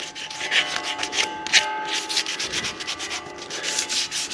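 Emery cloth rubbed by hand over a tractor's front linkage before painting, making a steady run of quick, close abrasive strokes in an irregular back-and-forth rhythm with no talk.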